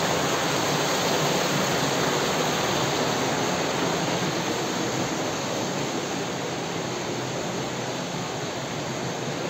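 The Shipra river flows beside a temple, a steady, dense rushing roar of water that holds constant and loud without pause.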